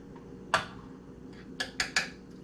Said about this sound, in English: Yes, it's a can opener.